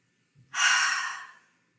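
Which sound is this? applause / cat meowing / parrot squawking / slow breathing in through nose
slow breathing in through nose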